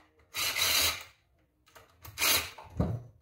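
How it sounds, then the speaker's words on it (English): Bolts of 8 millimeter size being loosened on a Honda 300ex engine during a teardown: two separate bursts of tool scraping and ratcheting noise, close and moderately loud, with a short thud near the end. "I always get them both loosened up, kind of going, so there's not a bunch of stress"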